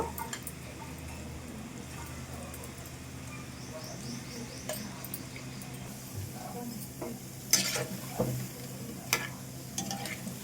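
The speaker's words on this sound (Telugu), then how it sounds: "చూడండి మనము వేసుకున్న ఈ బోండాలు చక్కగా వేగుతున్నాయి అటు ఇటు తిప్పుకుంటూ మనము ఫ్రై చేసుకోవాలన్నమాట" Bondas fry in oil for moong dal pulusu, giving a steady, moderate sizzling hiss with occasional soft clinks and stirring noises, and no talking.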